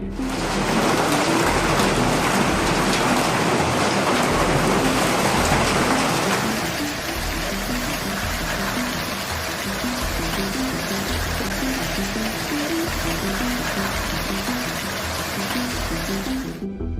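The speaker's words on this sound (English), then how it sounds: "Some of the hail was coming through the roof" Dense, roaring patter of tennis-ball-sized hailstones pelting down nonstop, some coming through a roof, loud and close, easing slightly partway through but continuing heavily throughout.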